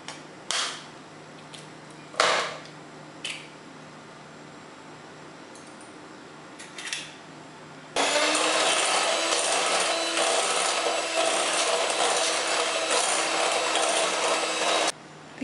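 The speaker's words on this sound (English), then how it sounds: "We'll beat this again. Now we'll add the second egg." Sponge cake batter with eggs being beaten: a few knocks and taps, then a loud, steady, continuous whirring that runs for about seven seconds and stops abruptly.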